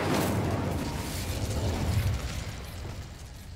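An Incendio fire spell in the Hogwarts Legacy video game gives off a dense, roaring whoosh of flame. The rushing burst holds steady for a few seconds and then slowly thins out.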